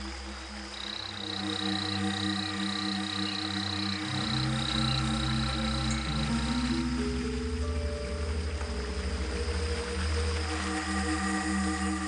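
Many frogs calling together in the Brazilian jungle, a dense, steady chorus of overlapping croaks and tonal trills from near and far, loud and continuous throughout with no voices.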